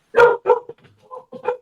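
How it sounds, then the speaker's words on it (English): Several dogs bark in a short burst, a few loud close barks followed by softer yips and whines, with no talk over them. "I don't know if you guys can hear my dogs in the background"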